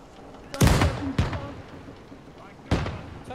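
Cannons fire at a Nassau 1715 community reenactment event: three loud, close booms, two in quick succession and a third after a short pause, each ringing out briefly.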